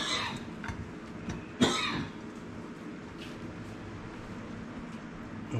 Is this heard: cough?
yes